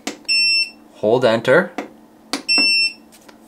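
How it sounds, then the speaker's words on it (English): A Growatt off-grid solar inverter gives two sharp electronic beeps, one for each button press, with someone talking briefly between them. "every time I click, there's now an annoying beep"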